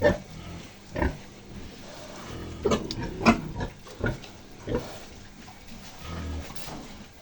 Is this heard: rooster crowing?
no